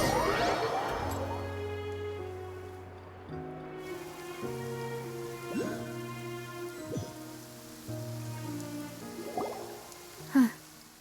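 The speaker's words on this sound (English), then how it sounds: "It's been raining non-stop for a few days now." Rain falling in a story-driven video game, a soft, steady patter that stays in the background beneath slow music for the whole stretch.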